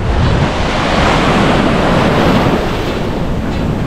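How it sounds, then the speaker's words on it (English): Ocean surf washes steadily onto a beach at Morro de São Paulo, Bahia, a loud, continuous roar of breaking waves with some wind buffeting the microphone and no voices. "we've now made it down to beach number one"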